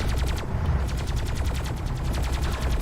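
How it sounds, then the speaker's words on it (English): Rapid, repeated gunfire from a real-time strategy video game, a dense rhythmic stream of sharp metallic shots pinging off an armored base runner vehicle, loud and continuous with no talking. "You can hear the bullets like dinking off the base runner."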